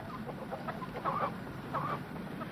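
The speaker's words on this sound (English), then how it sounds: "I bet you those chickens got a nest in the barn" Chickens cluck near a barn, two short clucking bursts rising above a steady, noisy background, moderately close and not very loud.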